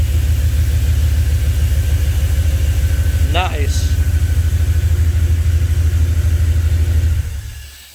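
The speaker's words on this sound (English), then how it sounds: "Listen to that V8 LS engine purr." A deep V8 engine, a GM LS, idles steadily in a custom fabricated buggy with a low, throbbing rumble, loud and close, while a voice speaks briefly over it; the engine cuts off at the end.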